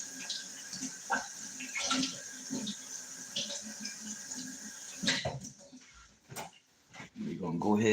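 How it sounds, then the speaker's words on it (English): Spoon rinsed under a running kitchen tap, a steady close water rush with clinks and splashes that cuts off partway, followed by faint handling noises, with a voice talking over the flow. "Rinse my spoon over here."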